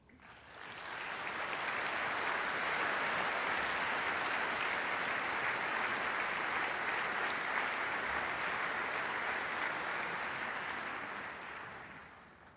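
An audience applauds the South Carolina All-State Junior Band at a 2019 concert, with steady, dense clapping that swells in, holds evenly for several seconds and then tapers off.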